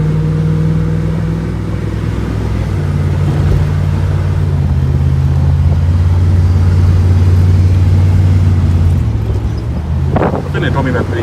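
A 1964 Ford Thunderbird cruising along the road, a loud low engine drone with steady road rumble and wind noise heard from inside the car, pitch shifting slightly as it drives.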